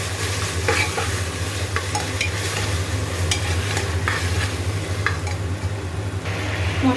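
Mutton with tomato, salt, ginger-garlic paste and fat frying in a pan, a steady loud sizzle running throughout, with occasional scraping strokes of a stirring spoon and no voices.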